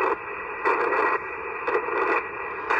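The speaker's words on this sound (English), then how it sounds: "Well, you can hear the FT8 there." An FT8 digital mode signal comes through a Yaesu FT-818 radio indoors on 30 meters as a steady hiss with tonal bursts that pulse on and off. It is moderately loud, and nobody speaks.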